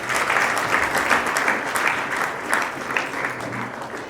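A large audience breaks into loud, sustained applause at a gift-giving ceremony, dense clapping holding steady throughout without any talk over it.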